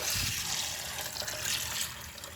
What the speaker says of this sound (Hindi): तो अब हम साबूदाने को पानी से धोएंगे।